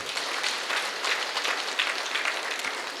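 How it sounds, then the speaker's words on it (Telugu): An audience at a meditation gathering applauds a speaker, with a steady round of clapping from a crowd, moderately distant and fairly quiet. "మేడంకి ఒకసారి గట్టి క్లాప్స్ కొడదాం."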